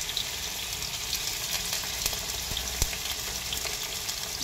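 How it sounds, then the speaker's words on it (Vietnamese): Tofu pieces fry in hot oil in a pan, giving a steady, dense crackling sizzle with small pops, close and continuous with no voices. "em sẽ cho cái đậu của em vào. Mình sẽ rán cho nó vàng cái đậu của mình đi."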